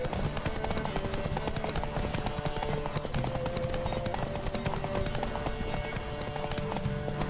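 Hooves pound in a fast, continuous gallop, loud and close, over a busy background of game music and effects, from a horse in the video game The Witcher 3.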